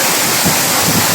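Sampaloc Falls pours in a steady, loud broadband roar. The rush of falling water stays constant throughout, heard close from below with no voices.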